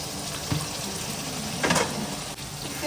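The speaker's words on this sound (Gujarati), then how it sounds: "એને સરખી રીતે ડુંગળીમાં હલાવી દઈશું અને એને બી શેકાવા દઈશું" Tomato and chili puree frying with onions in a pan while being stirred, a steady close sizzle with a couple of louder scraping bursts, no talking.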